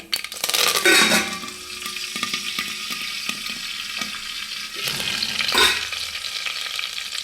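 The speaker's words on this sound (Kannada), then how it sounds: "ಕರಿಬೇವು ಹಾಕ್ತಾಯಿದ್ದೀನಿ." Curry leaves drop into hot oil for a sambar tempering, bursting into a loud crackling sizzle, then settling into steady frying hiss with clinks of a stirring spoon against the pan.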